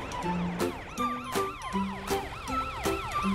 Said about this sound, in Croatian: To je policijski auto, Matt.